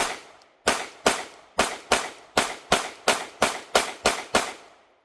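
Eleven sharp gunshots come from a Q Sugar Weasel 5.56 rifle, fired in an even rapid string about every half second, each a loud crack with a short decaying tail and no talk between them.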